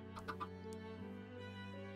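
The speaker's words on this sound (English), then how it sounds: "Chickens." Chickens cluck in a Minecraft game, a few short pixelated bursts near the start over a steady background music drone.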